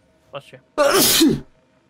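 A person sneezes loudly and close by, a short inhaled catch followed by a sharp burst, in a quiet indoor room.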